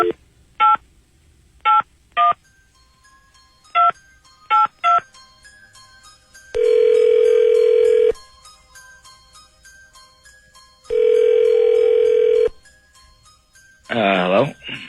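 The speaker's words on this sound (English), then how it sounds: "let's make a little phone call here" A telephone call being placed: a run of short DTMF keypad tones, then two long electronic ring tones separated by silence, ending as a voice answers.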